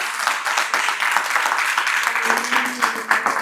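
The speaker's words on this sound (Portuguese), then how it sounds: "E eu queria que você aplaudisse o Senhor por isso." A church congregation applauding at a theology seminar service: dense, steady clapping that fills the whole stretch, fairly close and even, with a faint sustained voice or tone emerging underneath toward the end.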